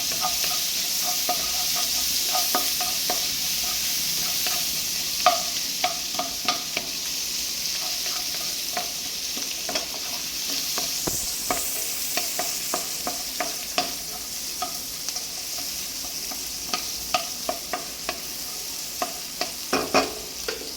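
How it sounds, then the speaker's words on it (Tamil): Spicy chicken masala cooking in a pan, with onion and fennel seeds going in. A continuous bright sizzle is punctuated by frequent spatula scrapes and knocks against the pan, with no talking. "போட்டு ஃப்ரை பண்ணுங்கள்."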